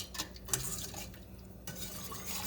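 A metal whisk stirs a mixture for scalloped au gratin potatoes in a bowl, giving a close, steady scraping and clinking with a sharper knock near the start and a brief lull partway through.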